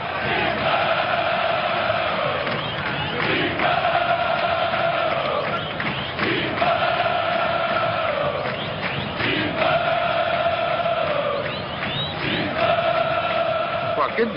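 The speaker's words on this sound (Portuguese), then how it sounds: "o torcedor tá lá cantando" Corinthians football supporters singing in the stadium stands, a massed crowd chant in a repeating rhythmic melody, loud and continuous, with cheering voices blending through the whole stretch.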